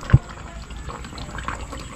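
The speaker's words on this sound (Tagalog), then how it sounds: "Lalagyan natin to hanggang sa mapuno." Water running into a solar pump's priming chamber until it is full, a soft steady gurgle and trickle with a couple of brief splashes, close by, no one talking.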